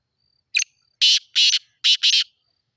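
Black francolin calling in Sindh, Pakistan: a short sharp note followed by a rapid series of harsh, grating bursts in paired rhythm, loud and close, with nothing else audible.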